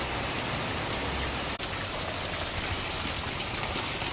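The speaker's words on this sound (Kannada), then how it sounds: "ಎಷ್ಟು ಜೋರಾಗಿ ಬರ್ತಾ ಇದೆ ನೋಡಿ ಮಳೆ" Heavy rain pours steadily in a dense, unbroken hiss with a brief dip partway through, close and loud, no voices over it.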